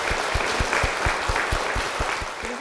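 Applause from a church audience in Korea as a guest is called to the stage: a dense round of clapping with a strong, regular unison beat running through it, fairly loud and unbroken.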